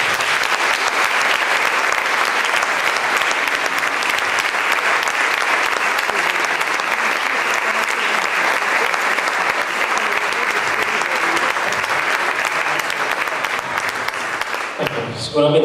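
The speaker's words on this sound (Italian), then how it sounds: "Noi quel poco che possiamo fare oggi è dedicargli un grosso applauso a Liliana Stabilini." A large, loud round of applause in an indoor hall during a poetry book presentation, dedicated to Liliana Stabilini. It stays sustained and steady for many seconds, then fades near the end as a voice begins.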